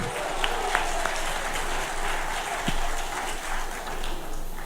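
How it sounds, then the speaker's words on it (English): An audience at a dinner in Kenya celebrating former Safari Rally drivers claps steadily, a dense, even wash of applause lasting several seconds at moderate distance. "Put your hands together and give them a big clap for all that they have done for Kenya."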